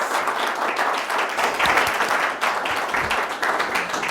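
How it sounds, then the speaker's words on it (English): An audience at a restorative justice event on elder abuse applauds, dense continuous clapping throughout at steady loudness. "So extra applause for those folks"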